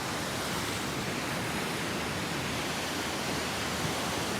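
Ocean waves and wind make a broad, unbroken roar of surf and rushing air at a steady loudness throughout.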